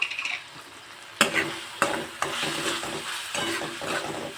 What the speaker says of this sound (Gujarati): હવે થોડીવાર માટે ટમેટાને કૂક કરી લઈશ